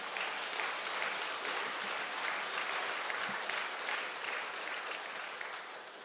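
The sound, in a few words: applause from a church congregation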